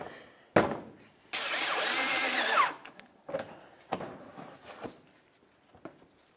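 Power tool driving bolts into the plastic fender liner behind the bumper cover of a 2007-2012 Nissan Sentra, one sustained whir of about a second and a half between sharp knocks and clatter, fairly close.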